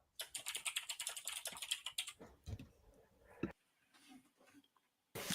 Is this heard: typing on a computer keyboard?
yes